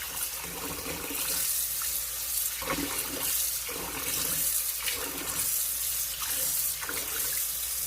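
Tap water runs steadily into a sink while rice is rinsed in a bowl, a continuous splashing hiss with periodic surges as the grains are swished, close and alone.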